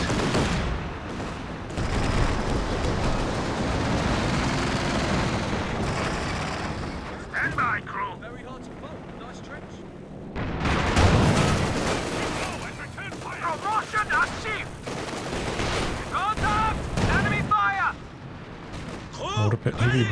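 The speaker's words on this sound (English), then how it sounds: "It's a firefight now for ps3YES." Battlefield gunfire in a Company of Heroes 2 match, bursts of shots and rumbling blasts rising and falling over twenty seconds, mixed with game sounds and a voice talking intermittently.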